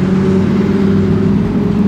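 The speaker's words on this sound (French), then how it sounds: "Huracan Evo. Oh, le son qu'elle fait," A Lamborghini Huracan Evo growls nearby on a Monaco street, its engine note steady and powerful throughout the short moment.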